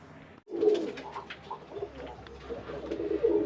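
Loft pigeons coo close by in soft, repeated throaty rolls after a brief pause at the start, with no talking over them.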